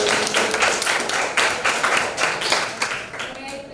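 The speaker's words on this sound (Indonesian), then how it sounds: "Kita beri tepuk tangan untuk Ibu." A classroom of children clapping for their teacher, with bursts of rhythmic hand claps repeating steadily in a room, fairly loud and close.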